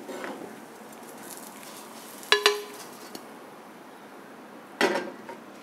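Crisp clinks of a utensil against a plate as cornflake-crusted French toast is lifted onto a serving plate, two short distinct clatters separated by quiet room tone.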